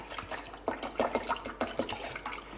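About 550 millilitres of cold water is poured into a container, making a steady splashing, bubbling flow with small sputters throughout and no talking.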